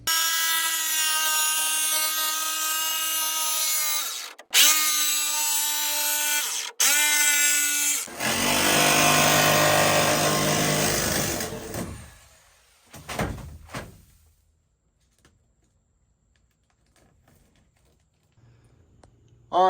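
A power tool cuts through a van wall to open a hole for a CRL awning window, starting with a steady whining motor in short bursts and then a loud, rough sawing stretch before it stops and fades to quiet.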